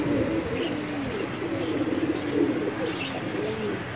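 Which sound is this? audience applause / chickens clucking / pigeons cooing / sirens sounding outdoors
pigeons cooing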